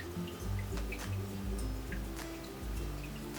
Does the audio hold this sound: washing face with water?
yes